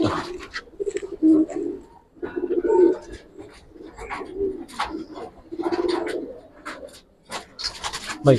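Silver-colored pigeons coo repeatedly at close range, their soft throaty calls overlapping in irregular bursts amid light rustling and scraping from the loft.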